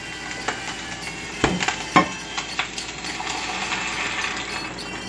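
Homemade salsa for Yucatecan huevos motuleños simmering in a pan, giving a steady low bubbling hiss with a few sharp clinks and pops of a spoon against the pan, close by and with no talking.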